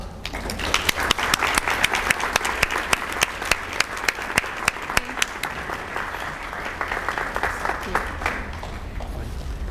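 An audience applauds as a speaker named Gene Baur is welcomed to give a talk on Farm Sanctuary, animals and food: steady dense clapping from a large crowd, sustained and even throughout, with no voices over it.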